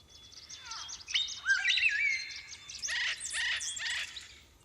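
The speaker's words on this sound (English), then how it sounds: "The album of rare bird chirping, featuring 53 of Australia's most threatened species, has debuted at number 5" Rare threatened Australian bird species singing, a close, clear run of whistles, warbles and rapid chirps in several bursts over quiet background.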